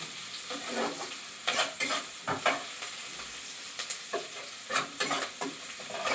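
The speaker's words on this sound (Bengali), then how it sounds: "পেঁয়াজটাকে লাল লাল করে একটু ভেজে নিয়ে" Onion fries in a pan, turned red-brown while a spoon stirs it: a soft continuous sizzle with repeated scraping stirs at an irregular rhythm, close up and fairly quiet, with no talking.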